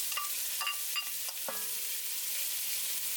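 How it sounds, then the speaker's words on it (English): Onions go into a pot for sausage potato soup and sizzle with a steady hiss, marked by a few clanks and stirs near the start. "Now I'm going to go ahead and put my onions in."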